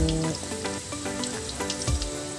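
Chicken fillet frying in a pan over low heat, giving a steady close sizzle and crackle with small pops throughout.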